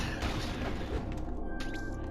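Missiles fired in the video game Metroid: Samus Returns, a dense run of booming, blasting shots close and loud that fill the whole moment before tapering into a thinner tone.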